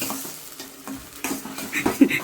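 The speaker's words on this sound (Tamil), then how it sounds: "அரைச்சி வச்ச தக்காளியை போட்டு கிண்டவும்" Ground tomato paste stirred in a hot pan while cooking prawns and dried fish, with scraping spoon strokes, sharp clatters against the metal and a sizzle underneath, close and fairly loud.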